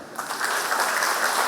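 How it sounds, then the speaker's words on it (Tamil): A crowd at an international astrology conference in 2023 breaks into clapping, a short, loud burst that quickly swells into a thick, continuous roar of applause. "எனக்காக எல்லா ஜோரம் கை தட்டுங்க"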